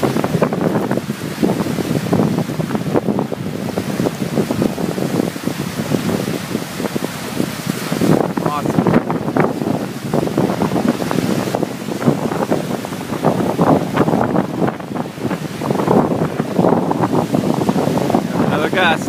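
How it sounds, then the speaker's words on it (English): Wind gusts whip across the water of Cameron Lake, buffeting the microphone in loud rough bursts through the whole stretch, with a voice speaking briefly. "Another gust."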